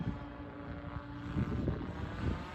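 A radio-controlled Blade 700 Fusion helicopter flies in smooth sport flight, giving a steady droning rotor whir that swells slightly as it passes, moderately distant and heard alone.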